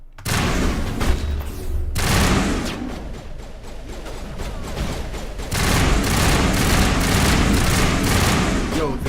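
Gunfire in the video game Mass Effect Legendary Edition: dense rapid bursts of shots and booms fill the clip, nearly continuous with brief gaps, loud and close, with a player's voice talking underneath.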